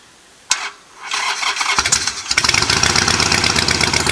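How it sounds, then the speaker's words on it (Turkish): A Harley-Davidson Sportster Iron 883 with a Vance & Hines exhaust cranks with a sharp starter burst, then catches and settles into a loud, lumpy, throbbing idle close to the listener. "Vines and Hines egzozum var. Dolayısıyla biraz ses çıkaracak gibi görünüyor."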